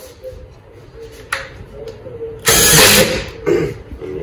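A power driver sinks 2-inch hex deck screws into pallet wood, a loud whirring burst of about half a second followed by a shorter one, with a few faint clicks beforehand.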